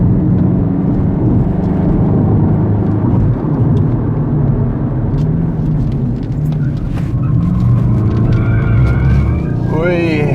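A BMW 128Ti engine drones steadily and loudly from inside the car while driving, with a rising whine near the end and some talk mixed in.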